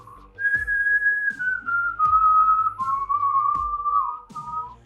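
Someone whistles a slow melody up close, sliding between a few sustained notes, with soft thumping or tapping underneath.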